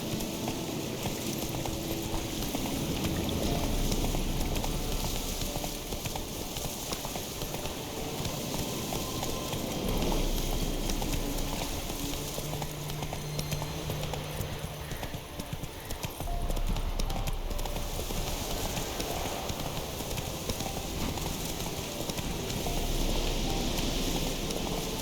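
Roach, the horse in The Witcher 3, gallops steadily in the game, hooves clip-clopping in a continuous rapid rhythm over a dense ambient wash, close and sustained throughout with no voices.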